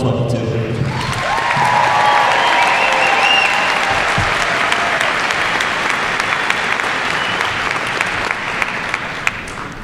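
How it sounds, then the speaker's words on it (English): Large crowd applauding at a high school graduation ceremony for the class of 2022 in Greeley: loud, sustained clapping with some cheering and whistles that swells after a brief voice at the start. "give a huge round of applause for the class of 2022"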